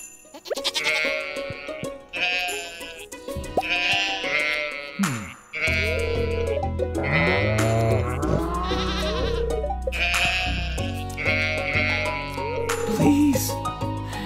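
Sheep bleats from the farm animals in the video game Stardew Valley, a string of repeated, nasal, wavering calls with a quiet musical backdrop that steps up into a louder, fuller game soundtrack underneath.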